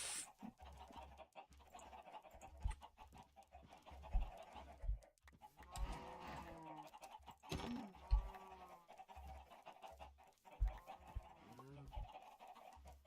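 Chickens cluck and squawk in a video game, scattered close calls over soft low background game sounds and thumps, with no one talking.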